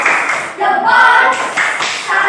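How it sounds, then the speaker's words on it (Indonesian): A classroom group performing a rhythmic 'tepuk salut' clap cheer, patterned bursts of hand claps mixed with chanted voices, loud and close. "Tepuk salut dong untuk Ayu dan Sania"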